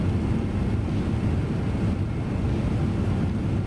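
An MD-11 jet during its takeoff roll in Microsoft Flight Simulator 2024, a loud, steady broadband engine roar with deep rumble, continuous throughout with no talk.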